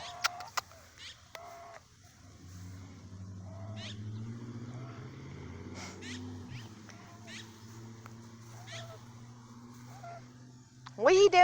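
A pet goose gives several short honking calls spaced through a quiet morning scene over a low engine rumble, with a louder, closer honk at the end.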